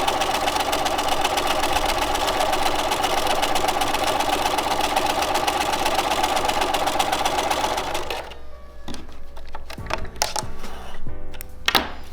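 A home sewing machine stitches a seam through a small fabric sample, running in a steady, dense mechanical whir for about eight seconds before stopping, followed by a few faint handling clicks and rustles.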